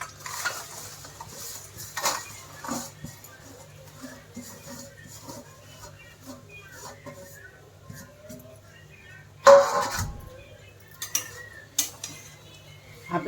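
Jaggery melting in a pan for Marathi tilgul, with a spoon stirring and scraping against the metal in light, irregular clinks and taps, plus a louder clatter partway through, against a quiet background hum.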